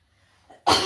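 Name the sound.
cough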